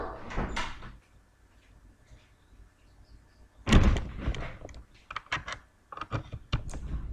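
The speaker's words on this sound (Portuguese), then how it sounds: "Deixa eu só abrir a porta para minha cachorrinha aqui e já continuo." Door opened at home to let a small dog in: a couple of sharp handle-and-latch clunks and rattles, close and moderately loud, between quiet stretches with brief bursts of movement noise.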